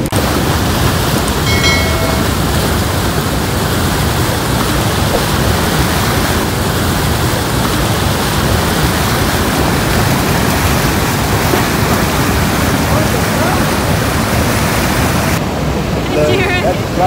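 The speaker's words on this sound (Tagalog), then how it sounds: "That's Bridal Falls." Bridal Veil Falls at Niagara Falls on the American side, a loud continuous roar of crashing water filling the whole stretch, with faint voices barely audible beneath it.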